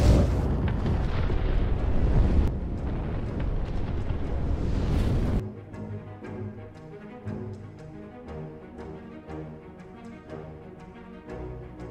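A truck loaded with 500 kilos of nitro explodes in a film: a loud, sustained blast roar for about five seconds, dropping abruptly to a quieter rumbling aftermath with scattered debris.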